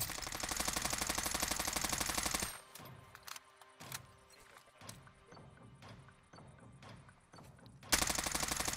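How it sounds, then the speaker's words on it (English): Gunfire in a shooter video game, loud bursts of rapid fire at the start and end, with scattered single shots and clicks in a quieter middle stretch. "So I'm shooting him so he doesn't shoot."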